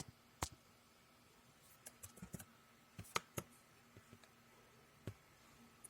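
Keystrokes on a computer keyboard as a command is typed into a Windows command line, heard as sparse, quiet, close clicks spread unevenly over a few seconds with no speech.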